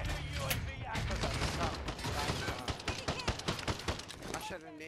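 Rapid bursts of gunfire from the video game Call of Duty: Modern Warfare II Warzone Rebirth, firing a submachine gun, crackle loudly and continuously, rattling in dense volleys with a player's voice talking over the shots.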